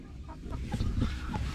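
Hens and roosters in a backyard coop cluck in a few short, soft bursts, faint and close-ish against quiet farmyard background.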